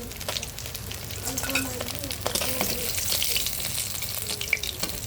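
Puti fish frying in a wok gives off a continuous hissing sizzle with scattered pops, and a spatula now and then scrapes and clinks against the pan, heard nearby and at moderate loudness.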